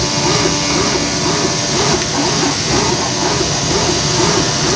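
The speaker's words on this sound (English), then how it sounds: "The actual vacuum cleaner." A vacuum cleaner sucks air out of a bag holding rolls of 3D printer filament, giving a loud, continuous hiss with a faint regular pulsing underneath.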